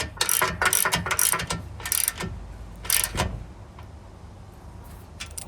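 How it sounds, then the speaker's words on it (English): A ratchet wrench with a 16mm socket tightens the ground strap bolt on a Jeep JL Wrangler cross member, several close, loud bursts of rapid clicking separated by short pauses, then quieter at the end. "you're going to need an 16mm socket to secure it in place"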